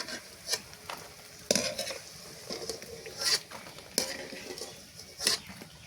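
Gaja pastries frying in oil, a steady soft sizzle broken by several sharp clinks and scrapes of a utensil against the pan, spaced irregularly through the stretch, with no voices.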